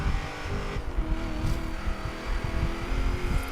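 A supercharged Mustang races a turbo NSX in Forza Horizon 3. The engine roars loud and close and keeps climbing, with brief tire squeals breaking through.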